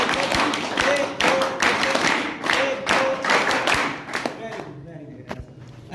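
A group of young people doing rhythmic Panchsheel clapping, with dense bursts of many hands clapping together in counted sets, loud and close, mixed with voices chanting the count and a brief pause near the end.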